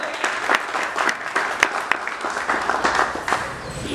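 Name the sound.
applause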